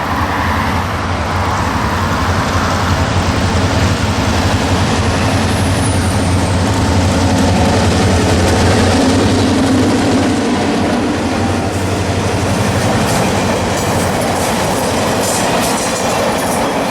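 A Kansas City Southern empty office car special train rolls by close and loud, a continuous heavy rumble with rhythmic clickety-clack of wheels over rail joints throughout.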